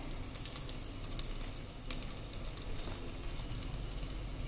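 Cumin seeds crackling in hot oil in a pressure cooker, a faint steady sizzle with a few sharp pops, close by and without talk.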